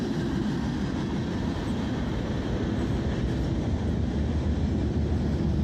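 A freight train rumbles steadily past on the way to industrial rail customers, a continuous loud low roll of wagons with no break, with no voices.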